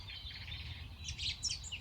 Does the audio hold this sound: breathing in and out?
no